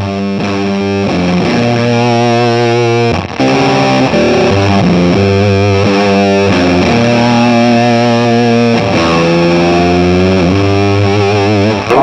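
Electric guitar played through a silicon Fuzz Face pedal, loud saturated fuzz tone with sustained riffs and bending notes, brief pauses between phrases, no talking.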